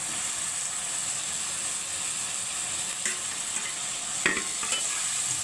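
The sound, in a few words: potatoes added and frying in spice masala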